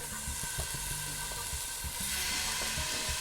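Short rib sizzles loudly as it sears in a hot pan, a steady hiss with occasional crackles and pops, close up and with no talking.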